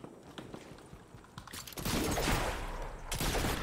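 Gunfire in a shooting video game, scattered shots and footsteps at first, then a loud dense burst of rapid automatic fire that continues to the end.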